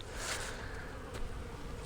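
Honey bees buzz around a hive in a soft, steady drone, a faint swarm hum that swells slightly in places, with no voices.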